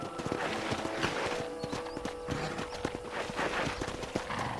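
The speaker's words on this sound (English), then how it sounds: "I picked out a fine horse for you." Horse hooves clip-clop at an easy walking pace on a ranch in Red Dead Redemption, crisp irregular strikes up close over a soft outdoor ambience.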